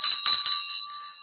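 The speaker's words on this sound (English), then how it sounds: "Oh, the bell." A stock market closing bell rings loud and sustained, several strikes blurring into a bright metallic ring that slowly fades over about a second.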